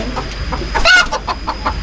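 Chicken clucking nearby after laying an egg, a quick series of short, clipped clucks with one louder squawk in the middle, heard alone outdoors.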